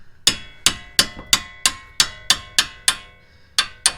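A hammer strikes a camber bolt on a Subaru WRX race car's front suspension, about eleven sharp metallic blows in a steady rhythm with one short pause, loud and close with ringing decay.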